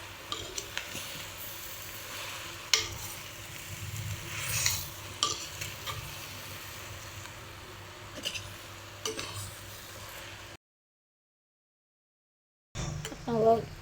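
A spoon stirs duck curry in a hot pan while it sizzles steadily, with scraping strokes against the pan, then a brief silence before more stirring resumes.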